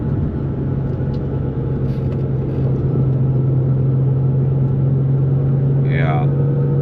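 A 2004 Nissan 350Z driving, its steady engine drone and road rumble filling the cabin, with voices talking over the noise.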